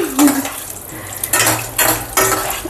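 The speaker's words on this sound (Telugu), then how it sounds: "ఇప్పుడు ఒక కప్పు పల్లీలు అయితే వేస్తున్నానండి పల్లీలు త్వరగా వేగవు కనుక ఈ ఫస్ట్ వేపి వేపిస్తున్నాను" A cup of peanuts dry-roasted in a pan for curry leaf powder, giving a few loud bursts of rattling and scraping as they are stirred, separated by quieter stretches with nobody speaking.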